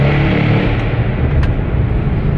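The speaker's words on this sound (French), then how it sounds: "Tu vois, la sonorité de cet échappement" An Audi RS6 exhaust note rumbles loud and close, a dense, steady roar with no clear rise or fall across the whole stretch.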